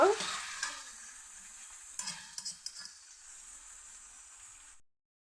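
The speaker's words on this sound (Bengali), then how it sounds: "বেগুন আর পেঁয়াজ কলিটা দিয়ে আমি একটু ভালো করে নেড়ে দিচ্ছি একটু ভাজা ভাজা করে নেব" Eggplant and spring onion stirred and fried in a pan, a steady close sizzle with scraping spatula strokes and a few sharper clatters of stirring, alone without talk.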